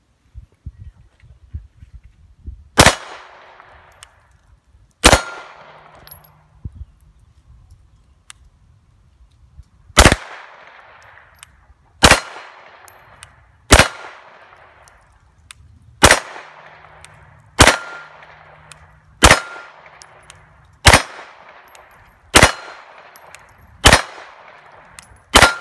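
Kriss Sphinx SDP Compact pistol with an enhanced trigger kit fires about eleven sharp shots at steel targets, each crack followed by a bright ringing clang, spaced irregularly then in a quicker steady string.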